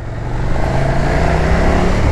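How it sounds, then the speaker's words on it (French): A 2020 KTM 1290 Super Duke R motorcycle accelerates, its engine drone rising from a quieter start into a strong, steady roar close by. "Tu fais juste des petites accels et tu es déjà satellisé avec cette moto."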